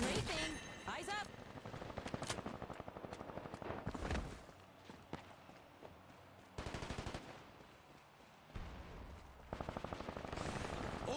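Aircraft strafing in Combat Champions comes as bursts of rapid machine-gun fire, loud rattling volleys broken by short pauses across the stretch, with sharp impacts mixed in.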